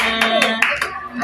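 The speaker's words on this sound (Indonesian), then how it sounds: "Tepuk tangan buat semuanya." A short burst of applause from a small group, with a few quick, distinct claps close by and a voice talking alongside.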